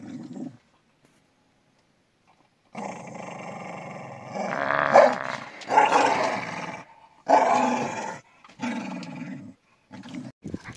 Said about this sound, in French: Ça c'est de bon chien, il marche sur le trottoir